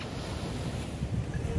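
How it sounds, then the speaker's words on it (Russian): Rough sea surf rolls continuously onto a beach at a Mexican resort on the Caribbean coast, with a steady broadband roar and gusting wind noise on the microphone. "А дальше море более такое шумное"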